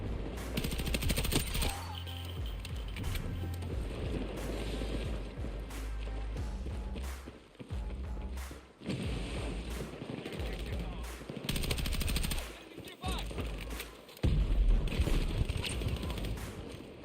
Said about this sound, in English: There's some shots over here.